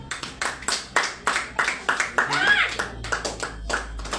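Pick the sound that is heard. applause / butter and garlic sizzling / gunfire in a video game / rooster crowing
applause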